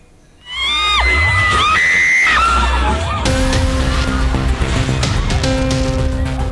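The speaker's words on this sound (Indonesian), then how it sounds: "Jeritan histeris dan teriakan panik terdengar saat wahana ombak banyu di sebuah arena pasar malam tiba-tiba roboh." Hysterical screams and panicked shrieks burst out from a crowd at a night market in Purworejo, Central Java, as an ombak banyu swing ride collapses, loud and chaotic, followed by crowd noise with steady music-like tones underneath.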